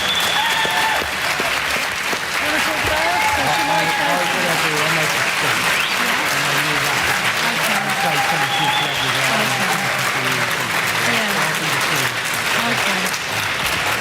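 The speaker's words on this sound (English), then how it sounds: "let's just have a massive round of applause for our 4 very brave, very eloquent, and incredibly interesting speakers" A large audience at an animal rights movement debate on single-issue campaigns claps steadily and loudly throughout, with a dense, sustained wash of applause and crowd noise that barely dips from start to finish.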